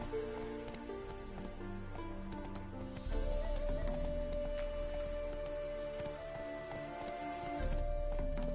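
Hooves of the horse Roach clip-clopping at a trot in the video game Witcher 3, a steady rhythmic patter with a faint ambient rain-like hiss and a soft background tone.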